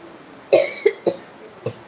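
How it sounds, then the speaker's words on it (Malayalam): Four distinct coughs, close and fairly loud, in an uneven run with brief pauses between them; no talking. "ചുമ തുടങ്ങിയല്ലോ"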